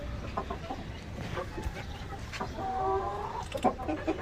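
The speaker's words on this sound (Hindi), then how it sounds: "बाकी मुर्गियाँ और एक मुर्गा" Aseel chickens and a rooster cluck softly nearby amid rustling and scratching in the dirt, with a few sharper clucks toward the end.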